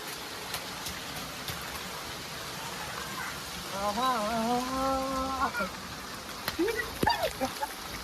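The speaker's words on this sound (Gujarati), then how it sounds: "બાકી આમ તો વરસાદ ગજબ નો આવે" Heavy rain falls in Surat with a steady, dense hiss throughout, while a voice rises briefly above it near the middle and a few sharp knocks come through close by.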